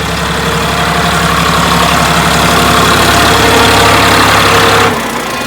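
A tractor engine idles loudly and close with a steady low chugging throb, running continuously before dropping off near the end, with no talking over it.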